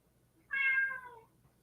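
A house cat gives a single clear, close meow, brief and fairly quiet against near silence.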